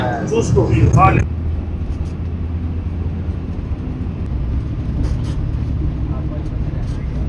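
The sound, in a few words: bus riding to the Haram in Makkah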